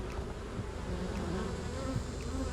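Honey bees drone around an open beehive, a dense, continuous buzzing that stays close and loud for the whole moment, with no voices.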